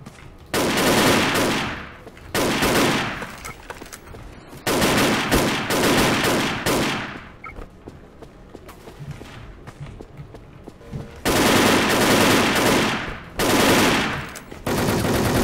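M4A1 automatic fire in the Wolfteam shooter, several long, loud bursts of rapid shots separated by quieter gaps with footsteps and faint background noise.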